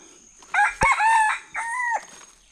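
A rooster crows once, close and clear, a brief rising-and-falling cock-a-doodle-doo in an outdoor rural setting.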